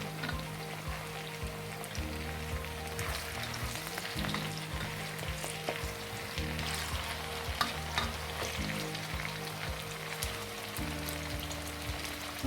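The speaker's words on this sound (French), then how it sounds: "Puis je fais revenir du paprika." Paprika sautéing in a pan for Cameroonian poulet DG, a continuous dense sizzle like light rain with scattered crackles over a low, pulsing background hum.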